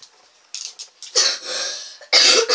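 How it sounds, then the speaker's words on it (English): Several harsh coughs in bursts, close to the mic: a couple of short ones, then a longer rough coughing fit, and a final loud cough. "Stop coughing in my room!"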